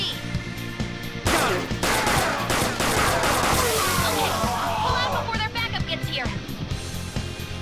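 Bursts of gunfire in the Persona 5 video game, a rapid volley of shots running over several seconds alongside game sound, with someone talking over it.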